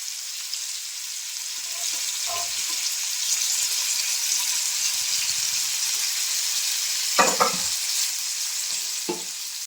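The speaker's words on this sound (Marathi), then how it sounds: "आता आपण एकीकडे ओले बोंबील रवा फ्राय करून घेतो." Rava-coated wet bombil (Bombay duck) fish fries in a pan with a steady, bright sizzle throughout, broken by a few clattering stirring or turning sounds.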